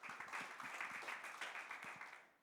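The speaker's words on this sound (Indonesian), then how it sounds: "Tepuk tangan bagi Tuhan kita." Applause from a church congregation during an Indonesian Sunday service, a steady wash of clapping that holds at a fairly even level throughout.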